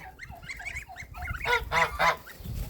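Goslings honk in a string of short, nasal calls, growing louder and more insistent toward the middle, close by with no talking.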